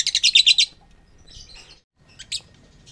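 Freshly harvested lovebird chicks chirp in short, high, rapid bursts, first a quick close run of cheeps, then softer scattered calls and one more brief chirp after a pause.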